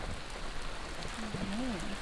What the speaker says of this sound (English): Let's pull the camera out and record in the rain.